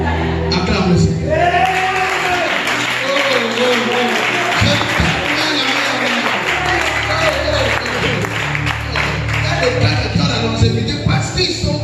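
A church congregation applauds and cheers loudly during a worship service, with sustained clapping, shouts and whoops mixed with voices and music throughout.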